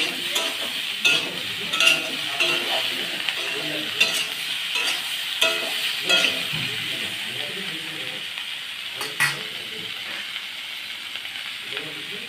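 Cauliflower, potato, pointed gourd and paneer curry sizzles steadily in a pan while a spoon scrapes and stirs it in repeated strokes, soft hissing running underneath throughout.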